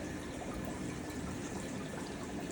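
Water steadily filling a 500-gallon plywood fish tank built for Central American cichlids, a constant soft rushing and splashing that stays even throughout, fairly quiet with no voices.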